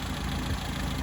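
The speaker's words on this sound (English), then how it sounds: "I can't believe it's idling. It's idling." A 1975 Honda Civic CVCC engine, running with a newly fitted carburetor part, idles in a brief, steady low rumble with a slightly uneven pulse and no voices.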